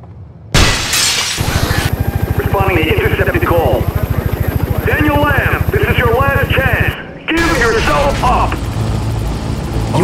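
A helicopter thunders overhead in the video game Manhunt 2. Its steady, loud rotor chop pulses for several seconds while filtered radio voices talk over it.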